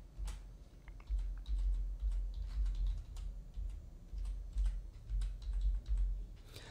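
Close-up typing on a computer keyboard while entering a new password, with quick irregular key clicks in bursts and a low background hum.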